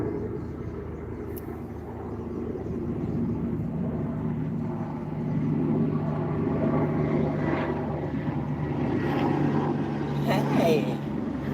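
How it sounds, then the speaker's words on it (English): A helicopter drones overhead in a steady, continuous low rumble that swells slightly midway, fairly close and loud throughout, with no talking. "big dragonfly helicopter"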